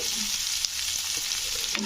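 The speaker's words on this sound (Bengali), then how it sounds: "পেঁয়াজটাকে কিন্তু মানে একটু লাল করে ভেজে নেবে" Onions fry to a reddish colour in oil in a pan for a drumstick and tomato curry, with a steady close hiss and occasional soft stirring scrapes, no speech.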